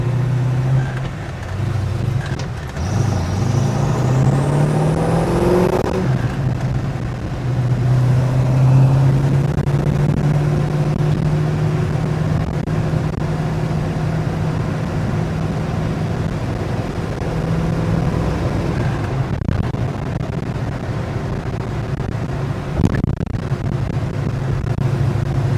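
A 1969 Chevrolet Nova driving in town on a hot day with the air conditioning on full blast: a steady engine drone from inside the car, rising in pitch as it accelerates early on, then cruising evenly.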